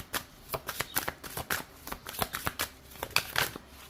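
Tarot cards being shuffled by hand, a rapid series of crisp close riffling flicks and slaps in an uneven rhythm, fairly loud and alone.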